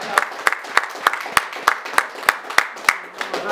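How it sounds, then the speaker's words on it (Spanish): A church congregation at a Christmas service claps in a steady, rhythmic beat, sharp, evenly spaced claps about three per second, fairly close, with a faint crowd murmur underneath. "denle el aplauso al Señor, hermano."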